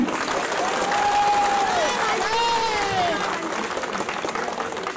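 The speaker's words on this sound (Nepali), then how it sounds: "यति जोरदार ताली" Audience at a political rally in Nepal clapping steadily throughout, with a voice calling out over the crowd noise.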